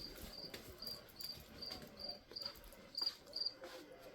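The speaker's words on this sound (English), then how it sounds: "I swear that cricket's got to be right in here." Cricket chirping indoors close by, regular bursts of high trills about every half second, clear above faint background rustle.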